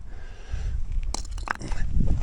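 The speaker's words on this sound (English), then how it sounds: "This is exactly what we've been driving on, just sloughy, crunchy, crackly rocks." Footsteps crunch and crackle over loose, sloughy rocks on a Colorado off-road trail, close and steady, with scraping grit under a low outdoor rumble.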